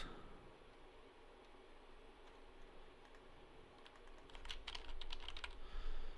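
Fingers type on mechanical keyboard key switches, sparse clicks at first that grow into a quicker, louder burst of keystrokes over a hissy background, with no one speaking.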